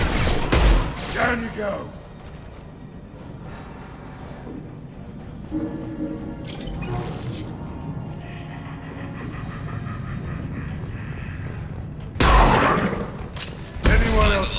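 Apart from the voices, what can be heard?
impact shot gunfire in the video game Mass Effect 2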